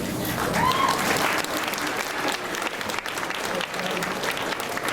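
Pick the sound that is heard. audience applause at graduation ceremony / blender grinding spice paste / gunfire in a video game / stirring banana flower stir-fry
audience applause at graduation ceremony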